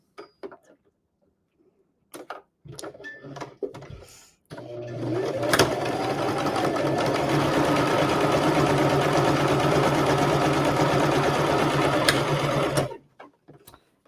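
A sewing machine stitching fabric quilt blocks: a few scattered clicks and handling taps, then a close, steady mechanical whirring run of about eight seconds that stops abruptly.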